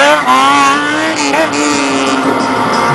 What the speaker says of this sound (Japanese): 最後までドリフトやります